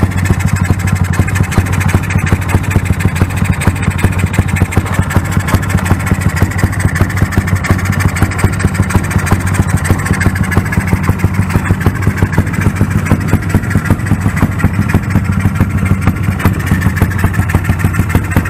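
A Yamaha YBR fitted with an OHC engine idles close by, a loud, steady rapid putter with an even pulsing beat held throughout, with no talk over it.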